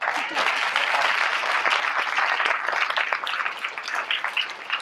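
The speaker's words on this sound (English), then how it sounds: "yeah, applaud that" An audience at a local history event applauds a long-serving county historian, producing a full, sustained burst of dense clapping that continues throughout and thins slightly toward the end.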